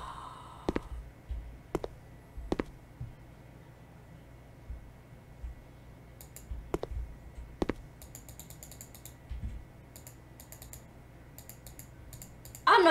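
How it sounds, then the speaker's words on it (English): Sharp, scattered computer mouse clicks and keyboard taps come in quick bursts during a scary horror game, close and fairly crisp over a quiet background, with a sudden louder noise right at the end. "just me clicking the shit out of stuff"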